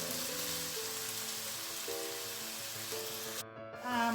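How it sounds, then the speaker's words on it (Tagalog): Potatoes fry steadily in a pan for corned beef silog, a dense, continuous sizzle with faint crackle and a brief dip near the end. "Iprituhin natin siya ng at least 2 minutes."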